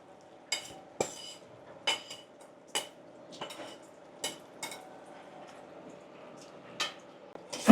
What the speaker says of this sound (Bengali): ভালো করে নাড়াচাড়া করে মিশিয়ে দিতে হবে।